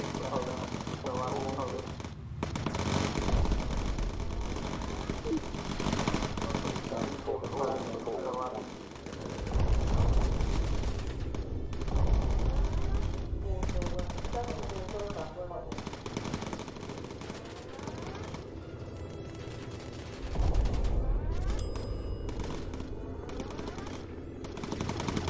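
Bomber machine guns in Bomber Crew pour out incendiary rounds in dense, sustained bursts, loud and near, over a continuous engine drone, with a voice talking over the gunfire.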